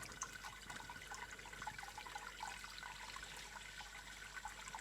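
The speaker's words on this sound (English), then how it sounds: "That's draining fairly freely." Sparge water draining freely through the grain mash during a home NEIPA brew day, a soft continuous trickle and splash, faint and steady throughout, no voices.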